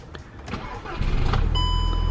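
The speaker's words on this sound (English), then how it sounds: "Look at that fantastic startup" Engine of a high-mileage Volkswagen GTI cranking and catching, a short starter whir that swells into a loud, close idle rumble, with a steady electronic chime tone sounding over it as the engine settles.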